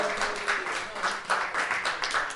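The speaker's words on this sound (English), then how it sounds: "Let me get a round of applause for Darren." Audience clapping at a poetry night in a small venue, a short, faint burst of applause with rhythmic claps and a few cheers over crowd murmur.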